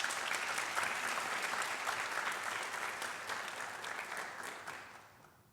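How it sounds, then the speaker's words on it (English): An audience at a college honors night ceremony applauds warmly, a dense, sustained round of clapping that stays full for several seconds before gradually tapering off at the end. "let's give him a round of applause"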